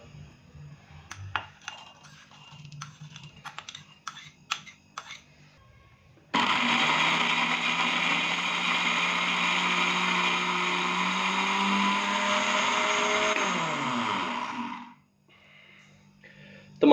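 After some light clinking and handling noises, a mixer grinder powdering dry fruits whirs loudly and continuously for several seconds, then winds down as the motor stops.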